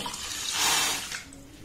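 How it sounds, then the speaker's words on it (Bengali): Water poured from a measuring bowl into a pan of sugar to make syrup, a steady splashing pour that swells in the middle, then thins out and stops after about a second and a half. "আর যতটা চিনি দিয়েছি ঠিক ততটাই আমি জল দিয়ে দেব"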